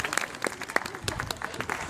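Brief, lively applause from an audience at a sea lion show, a burst of scattered hand claps heard up close without voices.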